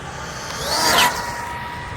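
Arrma Infraction 6S RC car racing past at speed on a street, a rising and falling whine of the electric motor that swells to a close peak then fades.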